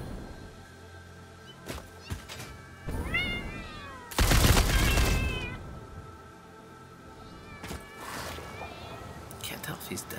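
A cat creature in the Satisfactory video game meows repeatedly in short, close calls, amid game noises and a loud burst of combat sound in the middle.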